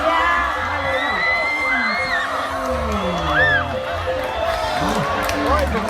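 A crowd at a longboat race festival in Phu Vong whoops and cheers loudly and continuously, shouts and babble overlapping amid close outdoor commotion.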